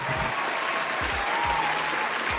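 Steady applause from a crowd, dense and continuous clapping throughout with no talking.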